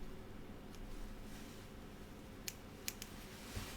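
Small scissors give a few quiet, crisp snips while trimming fly-tying material on a mono and copper scud, set against a steady low background hiss.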